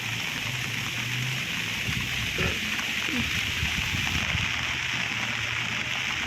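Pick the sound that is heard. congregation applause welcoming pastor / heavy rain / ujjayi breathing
heavy rain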